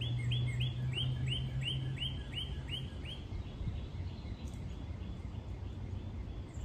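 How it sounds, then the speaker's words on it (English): Birds chirp in a backyard, with a string of quick, repeated bright calls over the first few seconds and then softer scattered tweets, with a low outdoor hum underneath. "You hear birds, yeah."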